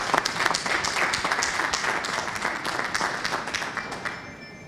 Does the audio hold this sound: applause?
yes